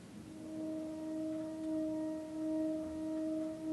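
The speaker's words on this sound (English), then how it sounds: "And the massive lead just sounds like this" A quiet, spooky synth lead from a Massive patch holds two long, steady tones with a faint wavering swell and a slight pitch bend, alone over a soft noisy bed.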